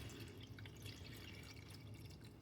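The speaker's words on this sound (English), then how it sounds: "I'm going to pour the vinegar into the top here" Vinegar poured into the top reservoir of a coffee maker, a steady continuous trickle of liquid running throughout, close and fairly quiet over a low hum.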